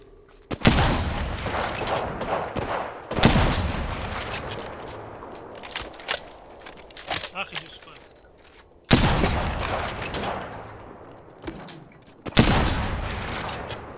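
Enemy gunfire in the battle royale shooter Apex Legends: loud bursts of rapid shots crack in repeatedly, with sharp impacts at intervals and a steady rattle of fire between them.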